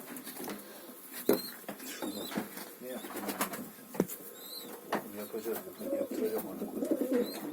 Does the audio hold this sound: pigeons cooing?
yes